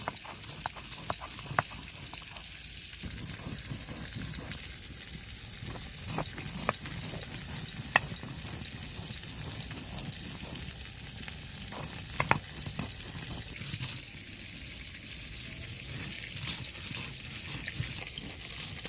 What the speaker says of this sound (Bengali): এপাশে আমি শুকনো শিলে শুকনো মশলাগুলো গুঁড়ো করে নিচ্ছি